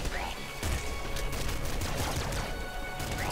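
Rapid, dense gunfire and clattering impacts fill a short stretch of Nuclear Throne gameplay on PC, a busy, continuous barrage with sharp bursts layered over one another.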